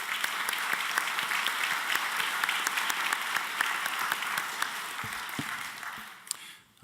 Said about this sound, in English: Will you join me in a round of applause for them?